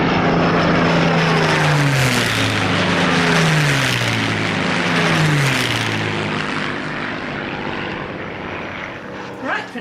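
A propeller aircraft engine effect in the manner of a Spitfire roars loud and close over a sped-up sewing machine stitching a seam, with a droning, wavering engine pitch that rises and falls for about ten seconds.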